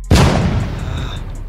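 A single sharp bang from a plastic toy pistol being test-fired, loud and close, followed by a brief decaying rumble and faint high ringing.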